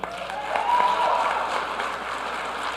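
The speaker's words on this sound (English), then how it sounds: "let's give a big round of applause to Ms. Beatrice Moore." An audience at a school board meeting applauds steadily, the clapping rising quickly and holding at a moderate level throughout.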